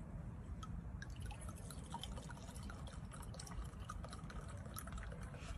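Champagne poured into a glass, a soft continuous liquid fizz and trickle with faint drips, heard close and fairly quiet with low background rumble throughout.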